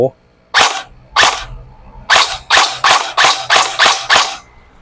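Eight sharp, loud shots from a Golden Eagle M16 A4 electric airsoft BB gun, fired singly at first and then in a quicker, evenly spaced run, each crack ringing briefly with no talk over them.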